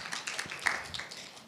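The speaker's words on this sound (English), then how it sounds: "a round of applause," Audience at a student pitch competition giving a round of applause, scattered claps pattering unevenly, fairly close, with no talk over them.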